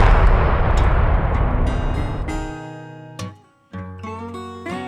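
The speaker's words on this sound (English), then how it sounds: "the following detonation imploded the deck and piers" Demolition charges imploding the deck and piers of the White River Bridge: a heavy rumbling blast that decays over a few seconds, then sharp cracking reports, a brief silence and renewed booming, loud and distant-sounding, no voices.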